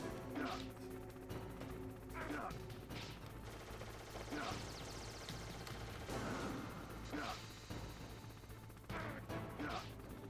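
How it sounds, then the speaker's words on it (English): Rapid bursts of gunfire from a Hind helicopter in Metal Gear Solid crackle over a steady music and effects backdrop, coming in several loud volleys spread across the clip. "dodge the gunfire from the hind while you rappel down"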